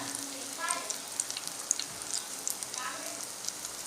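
A stuffed banana fries in a pan, a soft, steady sizzle with scattered light crackles and pops, heard close and fairly quiet.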